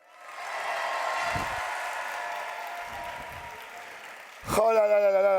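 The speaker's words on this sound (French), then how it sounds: "on peut l'applaudir bien fort s'il vous plaît" An audience applauds a sign language interpreter at the Gamers Assembly 2025 senior gaming trophy final, with steady clapping throughout and a louder burst near the end as a voice joins in.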